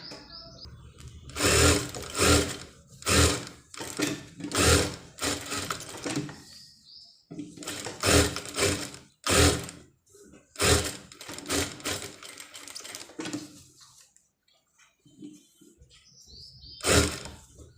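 Sewing machine stitching the neckline of a long satin gown: short bursts of rapid, close mechanical whirring with pauses between them, and faint chirps in the background.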